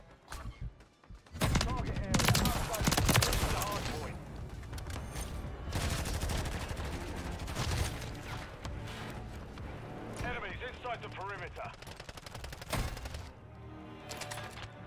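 MCW rifle gunfire in Modern Warfare 3, with bursts of rapid shots and scattered single cracks through a busy match, plus other game noise and a voice talking over parts of it.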